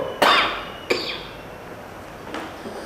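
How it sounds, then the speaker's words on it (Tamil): Two sharp coughs close to the microphone, a short pause, then a fainter third cough, with quiet room background between them. "எனக்குமே இருமல் வருது பாருங்களேன்"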